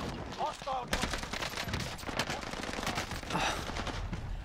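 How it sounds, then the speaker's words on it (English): Rapid automatic gunfire from the Warzone video game, dense bursts of shots firing continuously and loudly across the whole stretch. "I was shooting this guy for so long."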